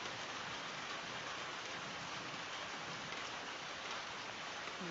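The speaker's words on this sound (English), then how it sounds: "Rain's dripping off the roof." Rain dripping off a roof makes a faint, steady, even hiss with no pauses for about five seconds.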